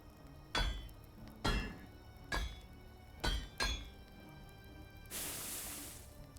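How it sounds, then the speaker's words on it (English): Crafting a hammer in the medieval survival game Medieval Dynasty: four evenly spaced, loud metallic hammer strikes ring out one after another, followed by a soft, sustained hiss, with no talking. "I'll craft a hammer."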